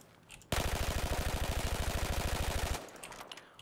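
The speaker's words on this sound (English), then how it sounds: "So let's see how we can do here in full auto" A gun in Battlefield 4 fired on full auto, a loud, steady, rapid stream of shots lasting a little over two seconds that starts and stops sharply, with quiet on either side.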